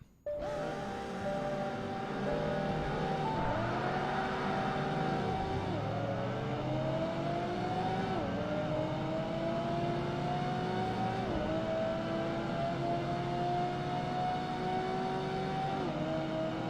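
Porsche engine roaring through the gears while racing in Project Gotham Racing 2, a loud steady whine that climbs in pitch, dips on each shift and climbs again over a long continuous stretch with no talking.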